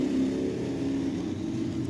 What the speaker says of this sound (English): Heat race number 1, Thunderstock division now out on the track.